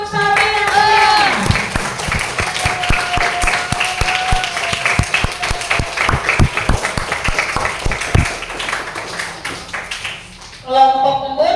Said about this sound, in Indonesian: Oke, jadi kasih tepuk tangan untuk Samil yang keren.